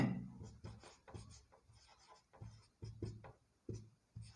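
Chalk or marker scratches and taps on a classroom board in short irregular strokes, close and fairly quiet, during an electricity lesson.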